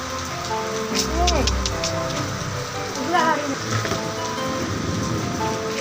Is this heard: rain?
yes